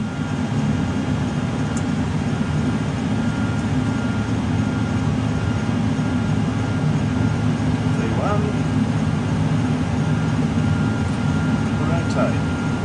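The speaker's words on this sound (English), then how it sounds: "our instructor has the controls and guides us down the runway and through a safe takeoff" Boeing 747 full flight simulator during a takeoff roll, a loud steady low engine roar and rumble filling the cabin throughout, with faint voices underneath.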